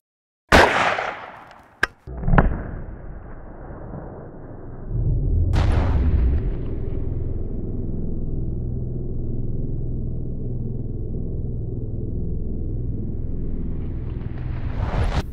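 A rifle fires a 130 grain Speer HAM'R bullet from a .300 HAM'R into ballistic gel, one sharp loud report followed by a smaller crack and a long decaying rumble, with no talk.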